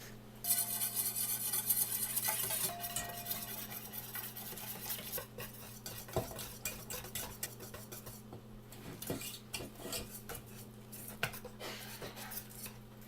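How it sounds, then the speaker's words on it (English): Batter of flour and liquid being whisked smooth in a bowl for okonomiyaki, with steady scraping and clinking of the whisk against the bowl, fairly close, with no talk over it. "now we add in the flour just a little bit at a time and whisk it until it's smooth"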